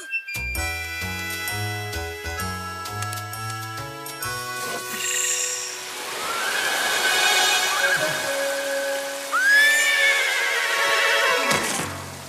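A cartoon horse in an Old West scene whinnies loudly over a musical score, with a bright descending neigh near the end and a faint jingle; no clear hoofbeats stand out.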